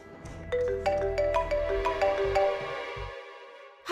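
A melodic phone ringtone plays alone, a bright repeating sequence of tones rising and stepping in a steady pattern, fairly close and clear before cutting off near the end.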